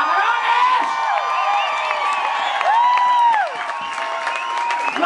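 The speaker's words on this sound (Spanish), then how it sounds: "un aplauso para ellas de parte de toda la bola de cabrones" Audience applause at a live show, a dense crowd clapping mixed with cheers and whoops, fairly loud and steady before easing slightly near the end.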